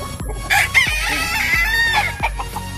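A bulik-line gamecock rooster crows close by in a backyard farm, its calls overlapping with clucks from other fowl, loud and repeated with sharp bursts throughout.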